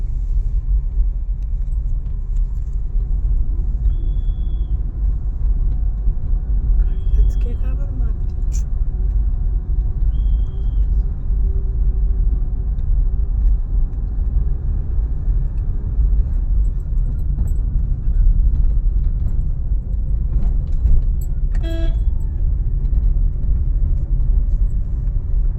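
A car descends a winding ghat road with the clutch released and the gear still engaged, not in neutral. Its engine and road noise make a steady, loud low rumble throughout, with a few faint high tones and clinks over it.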